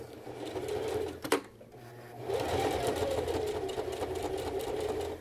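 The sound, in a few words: sewing machine stitching through fabric layers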